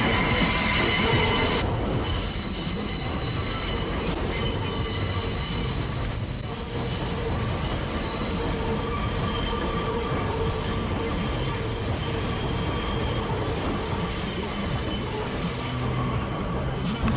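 A train rumbles steadily past a skatepark at River Avenue and 157th Street in the Bronx, New York, its wheels squealing loudly on the rails throughout, close and continuous with no talk over it.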